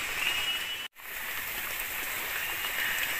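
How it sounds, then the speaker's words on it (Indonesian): Rain falls steadily in a forest near a treehouse, a close, even hiss of drops that briefly drops out before resuming at the same level. "hujan."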